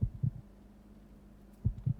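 A heartbeat in the Resident Evil video game thumps in two quick double beats, a low, soft lub-dub pulse at the start and again near the end over a faint hum, with no voices.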